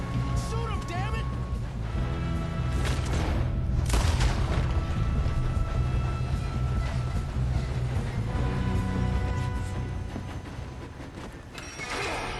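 Gunfire and booming shots ring out during a train robbery shootout in Red Dead Redemption 2, dense and continuous over a rumbling train under game music, with voices talking.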